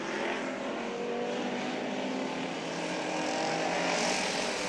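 Hobby stock race cars roar around Santa Maria Raceway at a nationals event, a loud continuous engine drone that swells slightly as the pack passes, with no voices.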